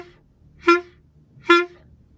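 A clarinet gives two short, abrupt puffed notes about a second apart, each a brief breathy burst with the tone cut off quickly, close by and fairly quiet, with no speech.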